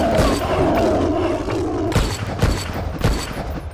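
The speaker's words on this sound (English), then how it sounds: "You have to shoot them in the head in order for them to die." Rapid gunfire bursts in the first-person shooter game SNIPZ, with loud repeated shots and booming impacts that hit in clusters and carry on steadily through the clip.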